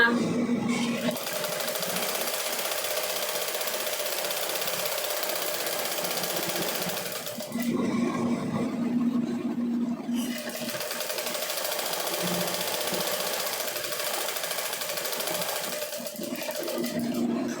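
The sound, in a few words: sewing machine stitching a hem on shorts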